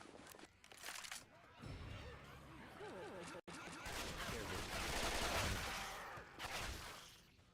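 Frag-round gunfire in Left 4 Dead 2, a rapid burst of explosive shots mixed with game chaos, with players talking over the fire.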